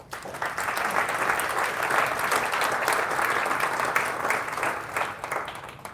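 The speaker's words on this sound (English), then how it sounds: "Please give yourself a round of applause." A crowd of audience members at a charity event applauds steadily, a dense, sustained wash of clapping that holds at an even, full level for several seconds.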